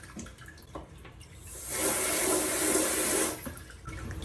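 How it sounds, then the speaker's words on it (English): A handheld water sprayer hisses onto a cloth diaper to rinse off poop, rising into a loud steady spray for over a second before cutting off, with quieter dripping and handling sounds around it. "So I keep spraying until all the poop is gone."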